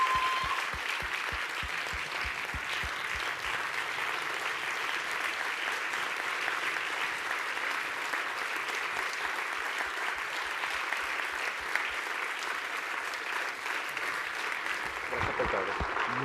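An audience applauds a distinguished guest, Oscar Lopez Rivera, at an event, with dense, sustained clapping from many hands. The applause runs steadily for about fifteen seconds, then tapers off near the end.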